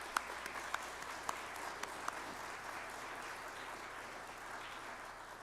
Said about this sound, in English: volunteers deserve a round of applause from all of us